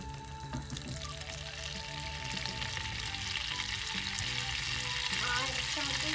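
Butter melting in a very hot pan for pancakes, heard as a steady, close sizzle and crackle that runs throughout with a faint clink or two and soft voices in the background.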